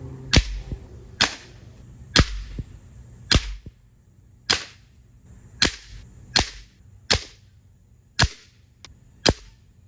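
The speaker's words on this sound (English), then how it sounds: "I'm gonna continue using the pellet gun" A pellet gun fired repeatedly at a MacBook Air 13-inch laptop, about ten sharp, loud cracks spaced roughly a second apart, each with a short ringing tail and no talking.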